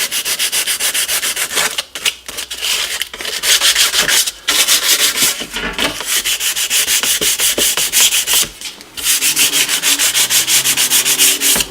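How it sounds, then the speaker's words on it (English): Sandpaper rubbed by hand over the metal grill of a NuTone Deluxe 8-inch patio speaker station, a loud continuous scratchy rasp in long back-and-forth strokes with brief pauses, close and alone. "If it starts to fill up with debris from the sanding, choose a new side and just work your way around."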